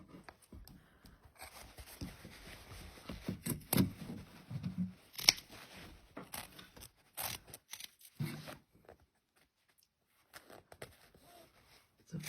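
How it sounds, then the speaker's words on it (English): Scissors cutting through the leg of a pair of denim jeans, repeated close snips and crunching fabric scrapes in an irregular series, fairly quiet, then falling silent. "just going to cut the other one."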